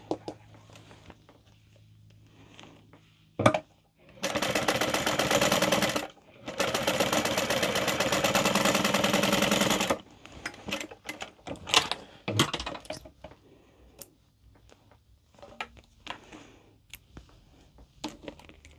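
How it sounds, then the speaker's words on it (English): A sewing machine stitches along bag edges in two steady runs of several seconds each, loud and rapid, separated by a short pause and followed by quieter clicks and fabric handling. "And then we will top stitch on the edges."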